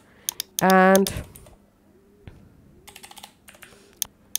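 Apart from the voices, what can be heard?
typing a name on a computer keyboard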